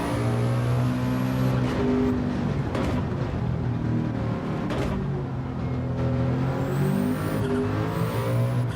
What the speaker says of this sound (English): I reckon this is one of the best sounding engines. Even if it's turbocharged,